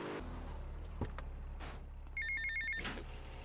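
A cell phone rings in the Vice City video game, a short series of bright electronic ring tones rising over a low engine hum and background game noise.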